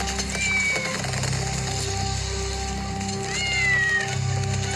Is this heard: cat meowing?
yes